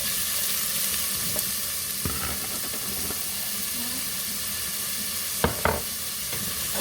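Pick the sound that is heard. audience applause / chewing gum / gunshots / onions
onions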